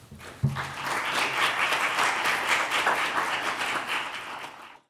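Warm audience applause welcoming a guest speaker at a lecture, a dense, steady patter of many hands clapping that swells quickly and holds for several seconds before cutting off.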